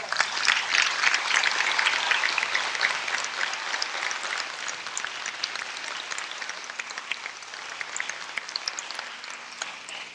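Applause from an audience at a Nation of Islam gathering in Los Angeles as a speaker is welcomed to the microphone, moderately loud at first and gradually thinning over about ten seconds, with no voices over it.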